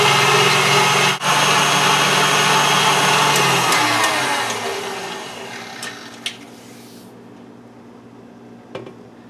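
An electric mixer beats macaron meringue on high speed with a steady, loud whirring drone that winds down and stops partway through, followed by a few faint clicks and quiet.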